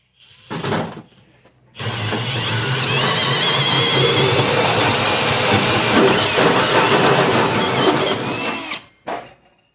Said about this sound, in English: Wasn't the smoothest, but hole saws never are.